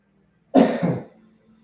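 A single short cough, close and clear, in two quick bursts, then quiet.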